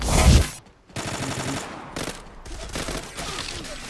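Dense bursts of automatic gunfire and weapon sounds from the online shooter Zula, loud and continuous after a brief lull near the start.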